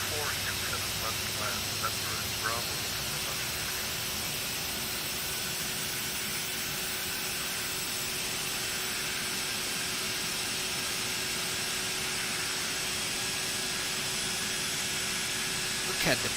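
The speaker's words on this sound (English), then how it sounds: "There's the beautiful Neo engines coming on." Airbus A321neo jet engines spooling up in the X-Plane 11 flight simulator, a steady broadband roar with a sustained whine that holds evenly throughout, with brief speech-like fluttering near the start.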